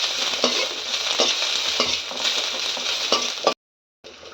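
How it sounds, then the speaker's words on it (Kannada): Curry leaves, onion and garlic frying in hot oil for chicken sambar, a steady close sizzle with periodic stirring scrapes, cutting to silence near the end before resuming briefly. "ಈಗ ಅದನ್ನ ಫ್ರೈ ಮಾಡ್ಕೊಳ್ಳೋಣ."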